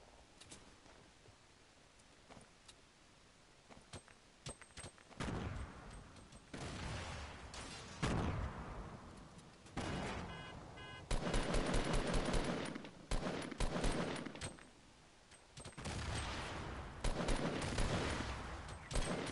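Rapid gunfire from the video game Fortnite crackles in repeated bursts and sustained automatic volleys, loud and dense, with brief lulls between exchanges and no talking.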